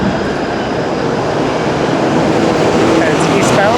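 A Toronto 505 Dundas streetcar rolls past eastbound on Dundas Street near Chinatown, a steady loud rumble of rail and traffic noise that swells slightly toward the end, with squealing wheel tones near the close.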